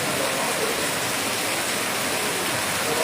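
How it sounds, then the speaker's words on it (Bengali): Heavy rain pouring down during hot weather, a dense, even hiss that stays loud and unbroken throughout with no voices. "আমাদের এখানে জল পড়ছে, বৃষ্টি পড়ছে"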